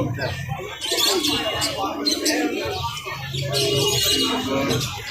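Pigeons at a busy pigeon market in Mirpur, with soft cooing and scattered chirps close by, mixed into a noisy crowd where several people talk throughout.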